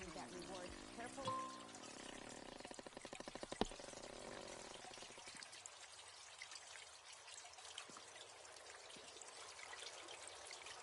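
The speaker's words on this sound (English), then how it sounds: "You see rushing water." Rushing water in Colossal Cave VR, a steady broadband wash that runs continuously through the scene, with some brief clicks and tonal game sounds early on before it settles into an even, moderately loud stream.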